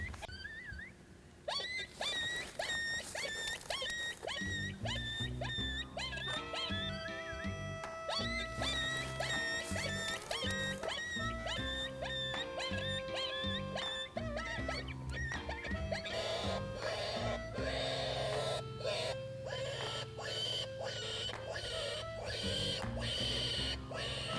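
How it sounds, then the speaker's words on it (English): A game caller plays a coyote call outdoors on a Mexico hunt. Loud, wavering yips and howls layer over one another with barking bursts, and the calling runs on continuously and fairly close. "he'll probably come on in from that coyote sound"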